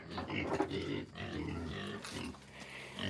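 Young pigs grunt and snuffle close by in a steady, busy stream of low oinks, with no talk over them.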